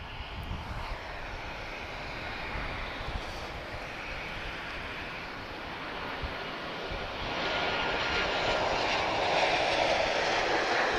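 A Boeing 737 at Lisbon Airport, a steady broad jet engine roar heard from a distance outdoors that grows louder and fuller toward the end, with no talk.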